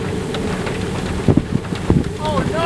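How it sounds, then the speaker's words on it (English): Strong, gusty wind buffeting the microphone during a tornado-producing storm in northeast Nebraska, a steady roar with a couple of heavier gusts and faint rain, while people react nearby. "Listen to the wind."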